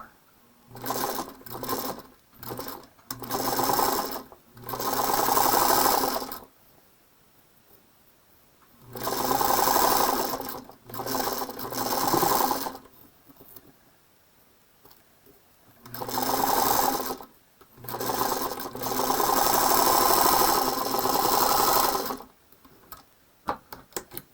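A sewing machine stitching rows of a quilt together runs in bursts of rapid mechanical clatter, some short and some several seconds long, separated by quiet pauses.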